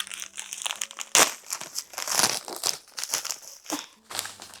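A book parcel from a publisher is torn open by hand without scissors, giving a close run of crinkling, ripping and crunching packaging bursts in uneven spurts.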